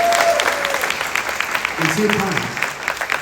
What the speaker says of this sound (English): can we give one more round of applause for Ethan and Pedro for hosting it?